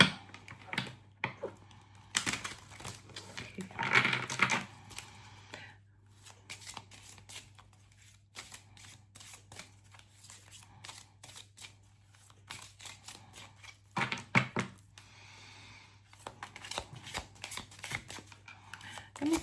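Tarot cards shuffled by hand in quiet bursts of riffling and soft flicking, with faint clicks and pauses between; a brief voice comes in near the end.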